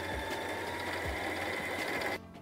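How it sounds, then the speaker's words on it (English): A Brother LS2160 sewing machine runs steadily while winding a bobbin, a continuous, even motor whir with a faint rhythmic tick that stops abruptly near the end. "put your foot down on the foot control, wind a little bit, snip the extra thread off, continue to wind the bobbin until it is actually full"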